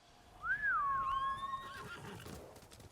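A horse in the video game Ghost of Tsushima gives one loud, close, high whinny that rises then trails off, with faint hoof clatter underneath as it settles.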